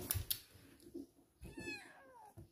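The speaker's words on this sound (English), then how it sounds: "we also got a kitten" A kitten at home gives soft, close meows, a couple of short cries then a longer rising and falling one, with faint handling noises around them.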